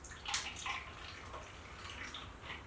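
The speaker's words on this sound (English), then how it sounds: "all we're going to do is just pour a little bit into each bottle like so" Sanitized water poured from a container into bottles for homebrewing, a soft splashing trickle with a few brief louder pours and drips, close and fairly quiet.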